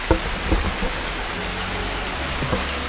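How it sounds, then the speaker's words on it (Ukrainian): Burbun waterfall pours in a continuous broadband rush, steady and close, with a few faint knocks near the start. "Водоспад Бурбун."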